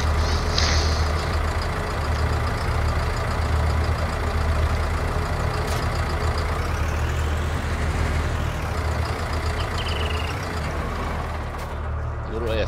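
Truck engine with a trailer hooked up in a video game, a steady low rumble running throughout with a brief hiss around the middle that could be air brakes.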